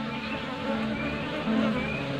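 Bees buzzing close around a sealed wooden bee-rearing box, a steady dense hum with a few brighter tones drifting in and out, continuous and fairly loud.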